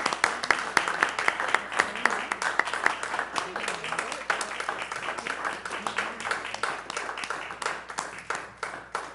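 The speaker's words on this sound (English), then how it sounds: "And how about another round of applause for..." Audience members at a school board meeting clap in a sustained round of applause, with individual claps standing out over a dense wash and murmured voices underneath, holding fairly steady throughout.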